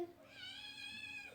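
A cat gives a single drawn-out meow, rising and holding its tone before trailing off, close and fairly quiet.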